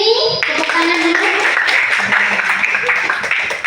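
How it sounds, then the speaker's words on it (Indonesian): A classroom claps for a student named Winnie, a steady burst of applause lasting a few seconds, mixed with voices and some cheering. "Beri semangat untuk Winnie. Tepuk tangan dulu."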